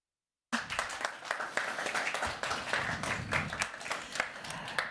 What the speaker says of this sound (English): We'll send your applause to Mihailo